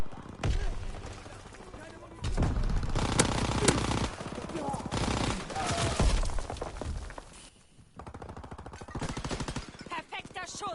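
Call of Duty WWII on PS4, Shipment map: loud bursts of rifle and machine-gun fire mixed with shattering impacts, coming in rapid clusters separated by brief lulls, with voices mixed in among the shots.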